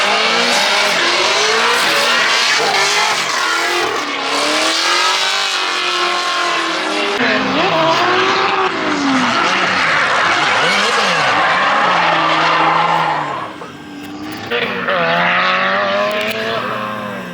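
A KA-powered Nissan 240SX drifts on track during a drift league round, its engine revving hard with rising and falling pitch, tires squealing, and other cars audible nearby, loud throughout.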